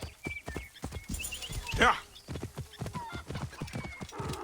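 Horse hooves clip-clop steadily while riding in the video game Assassin's Creed Origins, a quick rhythmic walking beat with a brief whinny-like burst midway and someone talking over it.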